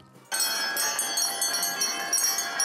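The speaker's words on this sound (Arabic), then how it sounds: "موكب أعلام مهيب تبعه قرع الجرس الأول" First school bell rung at a cadet school's Day of Knowledge ceremony in Kyiv, a bright handbell that starts abruptly and clangs rapidly and continuously with ringing metallic overtones, loud and close.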